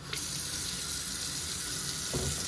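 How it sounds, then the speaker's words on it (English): Hot water runs steadily from a tap into a kitchen sink, a constant close rushing hiss that fills the basin without a break and with no talking. "So sink, fill it up with hot water."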